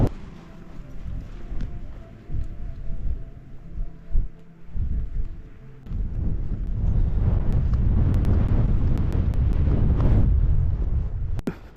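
Strong wind buffets an exposed ridge on Loweswater Fell in the Lake District, roaring continuously and building to a loud, sustained rush over the second half, with gusts thudding against the microphone.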